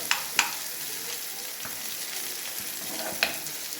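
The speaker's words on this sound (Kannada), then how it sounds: "ಈಗ ಬಿಸಿ ಬಿಸಿಯಾದಂಥ ಮೀನಿನ ಫ್ರೈ ರೆಡಿ ಆಗ್ತಾ ಇದೆ" Rava-coated fish fries on a hot tawa with a steady, close sizzle and a few sharp crackles and utensil taps throughout. No voices are heard.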